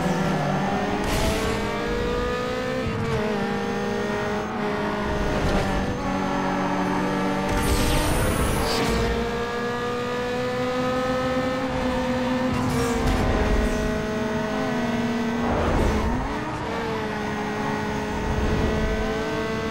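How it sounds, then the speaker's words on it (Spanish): Mazda RX-7 in Need for Speed Underground 2, its engine revving hard and close, climbing in pitch through repeated gear changes with brief dips at each shift, no talking. "Voy a acelerar súper bien el RX-7."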